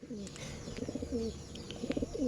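Soft, low pigeon coos repeat in short rolling phrases, close by, over a quiet background.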